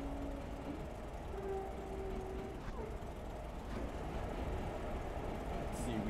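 Train running in Diesel Railcar Simulator, a long consist rolling with steady low rumble and wheel noise throughout, a faint tonal whine, under a voice talking.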